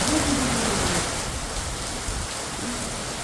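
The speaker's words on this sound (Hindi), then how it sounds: "अभी बारिश बहुत तेज हो गई है" Steady, dense rain pours down in a Himachal Pradesh mountain village, a constant hiss with a faint low rumble underneath, no voices.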